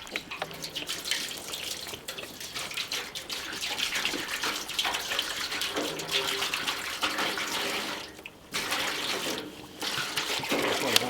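Water poured from a gallon container into a bag, a steady close splashing gush running almost continuously with a brief break near the end.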